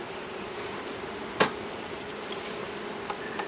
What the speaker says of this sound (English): the number of bees on the top side is getting higher than I want it to be